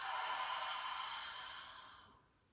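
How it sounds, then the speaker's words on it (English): A long, deep exhale through an open mouth during a yoga breathing exercise, a steady breathy rush that fades out over about two seconds, close and alone. "and then open your mouth as you exhale"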